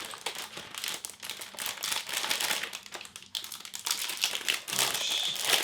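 Plastic and paper crinkling and rustling up close as a HyperX Alloy Elite RGB keyboard is unpacked, with sharp crackles and a brief tearing sound, continuous for several seconds with no talking.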